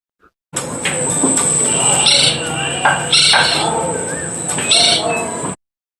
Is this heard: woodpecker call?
yes